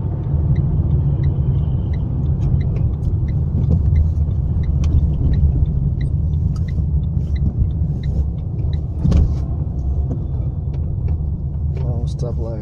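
A car with a manual transmission driving down Leninskiy Prospekt in Moscow: a steady low engine and road rumble from inside the cabin, with a person talking throughout.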